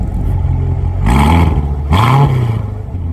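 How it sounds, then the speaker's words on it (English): A 2019 Corvette Grand Sport in sport mode idles with a low exhaust rumble, then revs up twice in quick succession, each rise falling back to a steady growl. "he's gonna switch it to sport mode and see how the exhaust sounds now"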